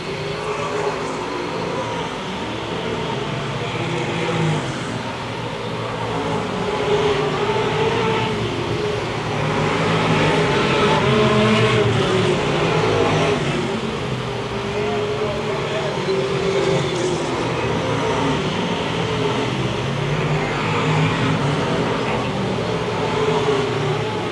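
Stock cars racing in a 1994 MASCAR event make a steady, droning engine roar that swells and fades as the field passes, continuous for the whole stretch under a commentator's talk.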